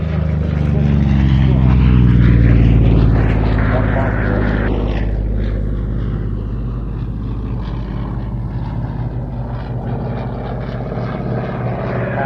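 A Grumman Bearcat propeller aircraft's engine runs up, a loud, steady low droning roar with a rising swell early on, continuing throughout with faint talk underneath.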